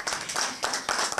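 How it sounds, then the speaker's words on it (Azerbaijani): A studio audience claps for a child's birthday on a TV show, with quick uneven bursts of hand claps rising and falling across a short stretch. "ad günüdür. Alqışlar."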